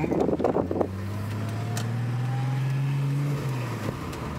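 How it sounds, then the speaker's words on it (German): From inside a car on a test drive, another car passes by, a smooth engine drone whose pitch swells and then drops away, over steady road and wind noise after a short rumble at the start. "da kommt ein Auto, ne?"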